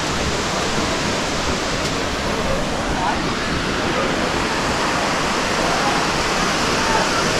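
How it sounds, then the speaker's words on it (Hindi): Manthoka Waterfall in Skardu roars as a dense, constant rush of falling water, loud and unbroken throughout. "ये रही मेरे पीछे मंटोका वाटरफॉल।"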